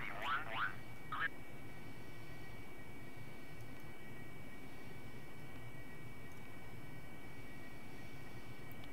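In DCS World, a taxiing aircraft's engine holds a steady, moderately quiet drone for the whole stretch, with a few brief chirping tones near the start.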